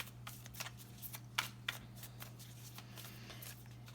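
Animal oracle cards being shuffled close by, a quiet run of soft riffling flicks and a couple of sharper snaps over a steady low hum, with no talking.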